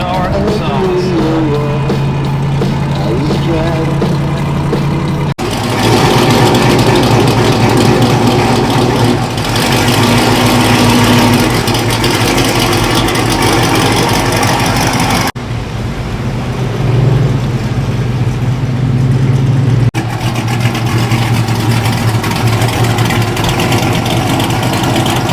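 A Chevrolet C10 pickup truck engine runs steadily in low gear while rolling out on a cross-country road trip, a constant loud rumble and drone under voices with road and wind noise.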